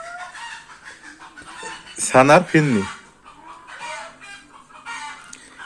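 Chickens cluck around a rural farm household, with a loud, close squawking burst in the middle of the clip while people talk over it.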